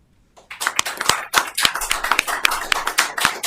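Applause breaks out at a city council meeting, beginning abruptly after a near-silent moment and continuing as a dense patter of individual sharp claps, fairly close and steady, with no talking over it.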